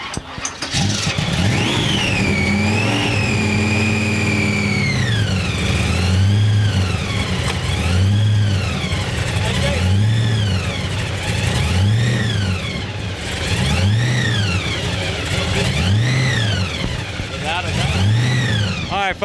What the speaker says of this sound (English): I want to hear that supercharger whine